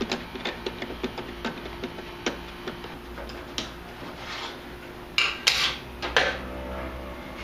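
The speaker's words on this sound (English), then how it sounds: "get yourself a uh, 7 millimeter nut driver or a socket and start by removing the one bolt that holds the whole assembly in" A 7 mm nut driver or socket backs out the single bolt holding the headlight assembly on a Jeep Grand Cherokee, giving quick regular ratcheting ticks close by, followed by a few louder metallic clunks.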